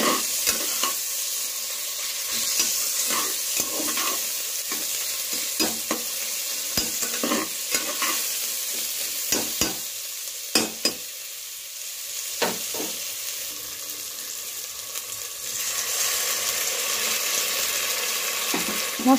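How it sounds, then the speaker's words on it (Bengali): Garlic paste sizzles in hot oil with tomatoes for a railway-style mutton curry, as a spoon scrapes and stirs the pan in steady strokes for about nineteen seconds. "এইবার আমি এর মধ্যে দিয়ে দেব আগে থেকে পেস্ট করে রাখা রসুনটা ভালোভাবে দিয়ে বেশ সুন্দর করে নাড়াচাড়া করে নেব"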